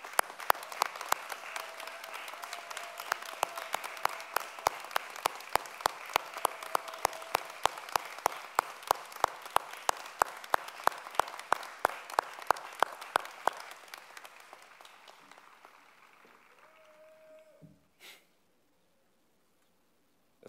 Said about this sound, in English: So can we please give a round of applause?